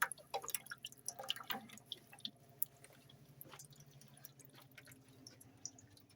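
Water drips and spits irregularly from a pipe as trapped air in the line makes the flow stop and start, close by with no talking.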